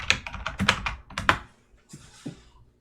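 Fingers type in a quick run of clicky keystrokes on a computer keyboard, close and clear, then a short pause and a few softer taps, with no one speaking.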